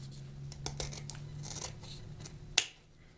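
Scissors cut through a stacked pile of ribbon pieces: a few soft snips and rustles over a low steady hum, then one sharp, loud snip near the end that quickly fades.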